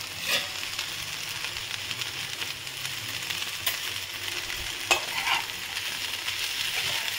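Sweet corn sprinkled with black pepper and a knob of butter fries and is stirred in a pan, giving a continuous bright sizzle with occasional scraping taps and clinks of a utensil, nobody speaking.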